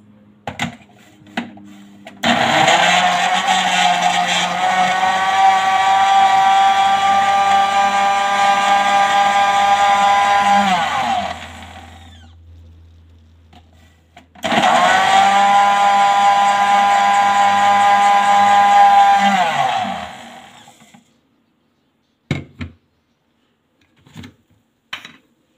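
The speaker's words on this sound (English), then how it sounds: "And I'm going to put in my blender." An electric blender runs on kiwi and hibiscus water in two long, loud, steady whirring bursts of about nine and six seconds, with short clatters and knocks between and after the runs.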